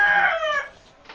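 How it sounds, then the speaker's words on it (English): A rooster crows once, a short clear call that fades out, fairly close and alone with no talk. "The rooster agrees."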